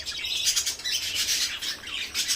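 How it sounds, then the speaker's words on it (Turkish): Pet birds in an aviary raising their chicks, a dense, continuous chorus of nearby squawks and shrill chirps with no talking. "Evet buradaki kuşlarımız yavrularını büyütüyorlar."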